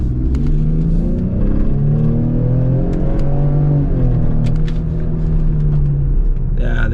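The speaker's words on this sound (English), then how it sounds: "Let's get some acceleration." A performance-oriented family car accelerates hard, its engine note climbing steadily in a loud, sustained rising drone with strong low harmonics, running close and continuous throughout.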